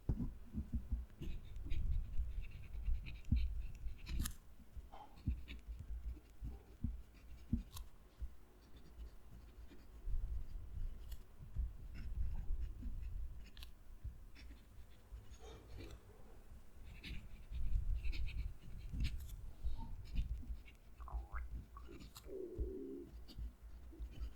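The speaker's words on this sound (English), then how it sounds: "Going to move the mic down to the page so you can hear the pen write." A HongDian Black Forest fountain pen nib scratches across paper, close and faint, in irregular strokes and scribbles with soft taps and low handling bumps, no talk.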